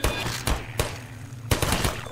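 Gunfire in Half-Life 2, three sharp loud shots spaced irregularly over about two seconds, close and punchy against a humming background.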